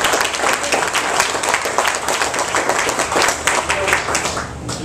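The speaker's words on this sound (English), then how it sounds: "Let's give everybody in this room a round of applause" A room full of people breaks into sustained applause, dense clapping rising and falling loudly and close by for several seconds, with excited voices mixed into the crowd noise before it starts to fade at the end.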